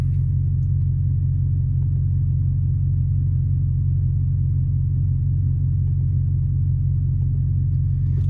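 An Audi RS5 Stage 2 engine idles steadily in a close, continuous low rumble, with no revving, and runs unchanged throughout.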